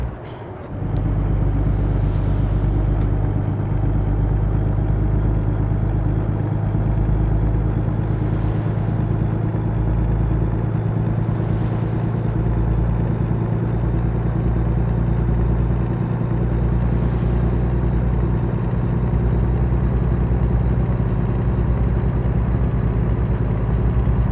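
A stock semi truck in American Truck Simulator pulls hard as it accelerates, its deep diesel drone steady and loud for the whole stretch with a low rumbling hum underneath.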